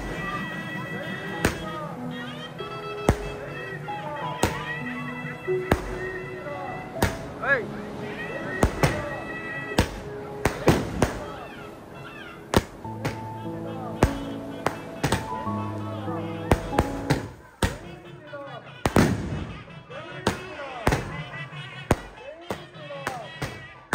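Firecrackers at a Sri Rama Navami festival burst in sharp, loud cracks, some rapid and some spaced out, over festive music and background noise.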